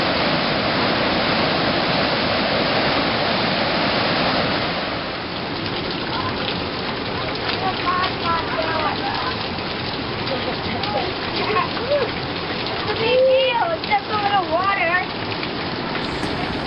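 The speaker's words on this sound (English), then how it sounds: "we reached Nevada Fall, a 600-foot column of water roaring with spring runoff from melting snow in the High Sierra" Nevada Fall, a 600-foot waterfall in the High Sierra swollen with spring snowmelt, roars as a steady, dense wash of falling water that fills the whole clip, with faint voices and chatter rising over it in the latter half.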